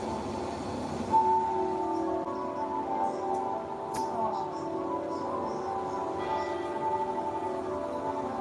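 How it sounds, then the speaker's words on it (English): Westminster Abbey's bells peal at a distance, a faint ringing sequence of tones carried over a steady low background murmur, with occasional sharper strikes rising above it. "the bells of Westminster Abbey have begun to peal"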